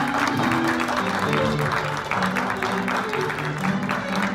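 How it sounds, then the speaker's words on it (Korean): Audience applause at a Korean university student council inauguration ceremony, a steady wash of clapping throughout with an announcer's voice layered over it. "큰 박수로 맞아주시기 바랍니다"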